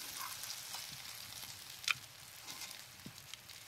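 Roasted tomato masala goes into a hot handi of ghee for a dhaba-style paneer dish, giving a faint, soft sizzle with scattered crackles and a single bright metallic clink midway.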